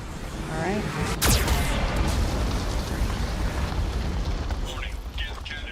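A Geth cannon blast from Mass Effect 2: one sharp, loud boom is followed by a long roaring rumble of fire and debris, with a voice partly audible in the mix.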